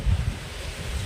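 Night wind gusts into the microphone near water during crab catching, a brief low rumbling buffet with a loud burst at the start.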